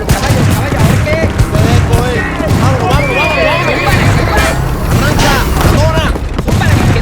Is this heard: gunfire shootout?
yes